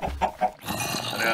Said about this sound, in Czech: Je, slepičky rozmnožíme